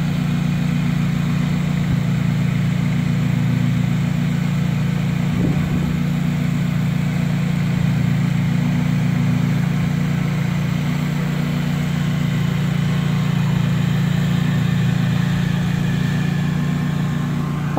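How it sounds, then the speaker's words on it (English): A ride-on lawn mower with a man on it, its engine running in a steady loud low hum from start to finish, with no clear change in pitch. "Right there he is on the mower right there."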